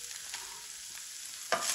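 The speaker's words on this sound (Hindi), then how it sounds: "यहाँ पे हम इसको 2-3 मिनट भूनेंगे। प्याज थोड़े से नरम हो जाए बस।" Onion and shredded cabbage fry in a hot pan for a kachori filling, giving a soft, steady sizzle with a short louder crackle near the end.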